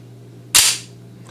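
A single sharp shot from a Kimber Custom II pistol in 10mm Auto rings out loud and close, a bright crack that decays quickly over a quiet background hum.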